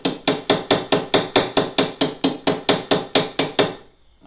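Peen side of a hammer strikes a brass pin on an anvil to spread its head while fitting a lawn mower machete handle: about fourteen sharp, ringing metallic blows in a fast, even rhythm, loud and close, then stopping.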